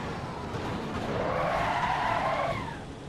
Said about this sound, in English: Love the sound of the car though.